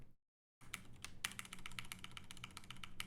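A computer keyboard gets struck in a quick, irregular flurry of sharp key clicks after a brief moment of silence, close and fairly faint, with no voices.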